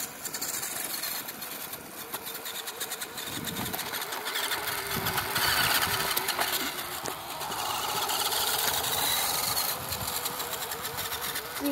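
A D12 engine works steadily at part throttle while hauling a load of gravel, a continuous droning mechanical hum with slight rises in pitch, close and fairly loud throughout.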